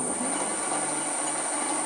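A drill press runs through a pull-gear speed reducer of roughly 4-to-1 reduction, driving the bit at about 200 RPM, giving a steady, even mechanical whir with a faint grinding edge and no pauses or speech.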